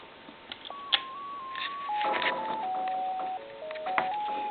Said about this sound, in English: I want you to be able to hear the music on hold